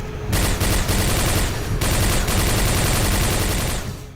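Rapid-fire Hyper Blaster laser blasts from a video game stream out in a dense, continuous burst, loud and unbroken for several seconds.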